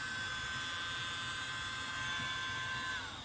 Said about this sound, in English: blow it with my blower now just to dry it out a little bit